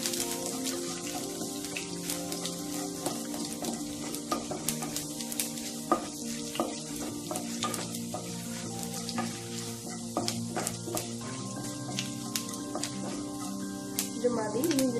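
Ginger, garlic and curry leaves sauté in a hot pan for Kerala-style anchovy stir fry, giving a steady, close crackling sizzle with frequent sharp pops and occasional stirring scrapes throughout.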